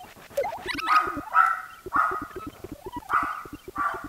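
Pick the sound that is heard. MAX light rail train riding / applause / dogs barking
dogs barking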